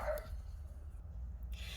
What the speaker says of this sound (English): sorry about that barking, y'all. That's my babies. They see the neighbor's dog outside